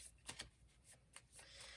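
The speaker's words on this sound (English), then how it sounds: "I have to shuffle." Quiet riffling and flicking of a deck of cards being shuffled during a solo Star Realms: Frontiers deck-building game, a few soft snaps followed by a brief run of rustling.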